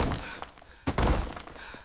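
Someone slipping and falling lands with a single heavy, close thud partway through, followed by a dull rumbling tail over faint background noise.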